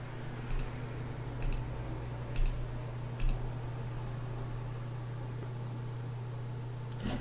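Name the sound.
mouse clicking through software installer defaults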